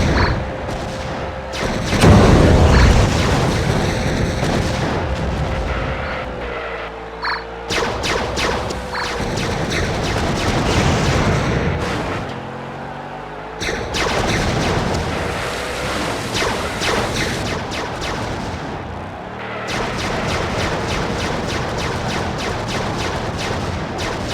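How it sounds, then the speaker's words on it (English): Weapons fire in the vehicular combat game WWE Crush Hour, with The Rock's vehicle shooting in loud bursts of booming shots and explosions over a constant engine roar and game noise, with no talking. "Shots being fired there by The Rock."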